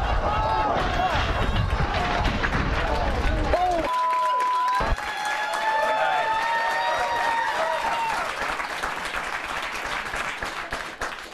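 A TV studio audience applauds in a dense, continuous wash of clapping that stays loud throughout, briefly dipping partway through, with a voice and other studio sounds mixed in.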